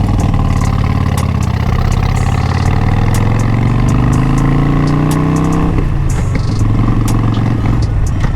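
A Harley-Davidson 1200 Classic motorcycle cruises on the road, its engine rumbling loud and close with rising and falling pitch as it shifts, under steady wind noise.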